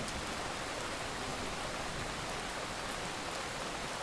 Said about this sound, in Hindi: फलनपुर गांव में पिछले 3 दिनों से लगातार बारिश हो रही थी।